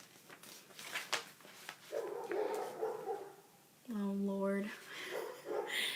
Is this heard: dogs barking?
yes